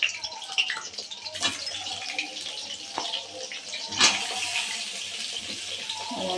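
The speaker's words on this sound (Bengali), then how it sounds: "এখন আমি পটলগুলো আস্তে আস্তে ছাড়বো।" Pieces of pointed gourd (potol) being slowly added to hot oil in a pan, giving a steady close sizzle and crackle with a few sharper spits.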